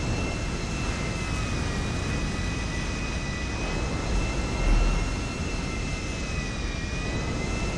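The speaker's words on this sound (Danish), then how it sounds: "Nu sætter vi afgang. Nu letter jeg." An airplane jet engine drones steadily during takeoff in a GTA video game, a loud, even roar that swells slightly near the end, with no voices over it.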